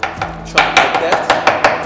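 A knife chops fresh homemade ingredients for celery soup on a board, steady close strokes landing about four times a second, crisp and loud with no voices.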